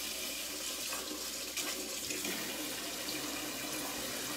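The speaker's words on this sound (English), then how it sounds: "I'm just gonna get the cold water running on it for a little while" Water runs steadily from a tap, a constant close splashing rush with no voices.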